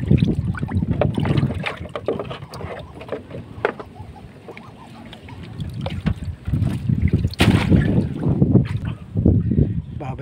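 Strong wind buffets the microphone on open water while fishing, with rushing gusts and water splashing against a small boat, and a few faint voices in between.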